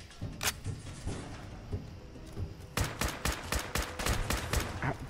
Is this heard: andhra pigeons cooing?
no